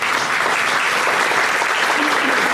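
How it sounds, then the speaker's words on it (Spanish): Audience at a human rights forum in Peru applauding, a loud, dense, steady clatter of many hands filling the whole stretch, with a faint voice briefly underneath near the end. "Y que los aplausos que ustedes van a dar, que sean por nuestra Federación para la Paz Universal y por nuestro pueblo peruano"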